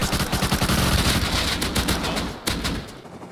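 Rapid automatic gunfire bursts in the survival video game Rust, loud and close with a dense rattling rhythm that thins out near the end.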